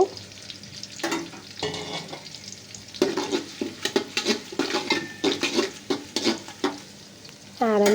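Bay leaves, cardamom and cinnamon frying in oil in a pan for chicken pulao, a close sizzle punctuated by quick, repeated stirring and scraping bursts, with a clatter near the end and no talking.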